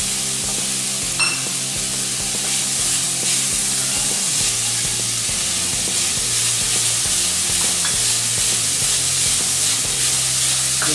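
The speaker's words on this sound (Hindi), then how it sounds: "ये सभी सब्जियां हमें 1 मिनट के लिए फ्राई करके लेनी है।" Mixed vegetables including capsicum stir-fried in a hot pan for Manchow soup, a steady loud sizzle with scraping and stirring clatter throughout, no voices.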